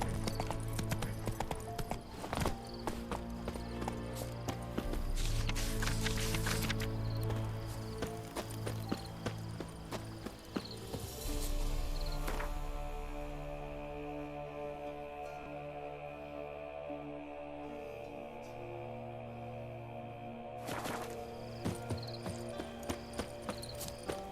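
Roach, the horse in The Witcher 3, gallops with a steady, fast clip-clop of hooves that is loud and near, set against a game music score and ambient sound.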